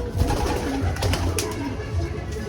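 Young pigeons just released from a cage coo in low, repeated murmuring calls close by, with a faint rustle and bits of background noise throughout.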